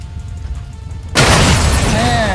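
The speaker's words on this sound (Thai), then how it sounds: "ทีนี้รถก็จะระเบิด" A car blows up in Call of Duty Warzone Mobile with a sudden loud boom and crackling burst that follows a quiet stretch, then a sustained rumbling roar as debris settles.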